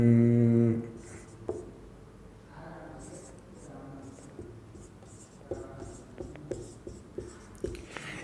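Chalk or marker scratches across a classroom board in short, irregular strokes, close and moderately loud, with a brief spoken word at the start.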